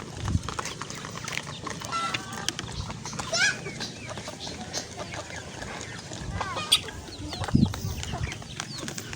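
Chickens cluck and squawk in a busy, lively group, with scattered calls and flapping nearby while people talk over them.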